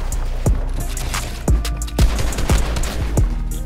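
Gunshots ring out in a video game, loud individual cracks spaced roughly half a second apart over a rumbling low background, with no talking.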